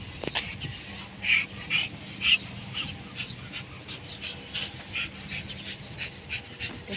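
Dogs bark and whimper softly at a distance, a few short yelps recurring over steady outdoor background noise.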